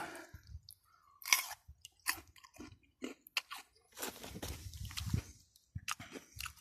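Raw yacon (Peruvian ground apple) tuber is bitten and chewed up close, giving a sharp crisp crunch followed by a run of wet, juicy chewing crunches in a quiet room.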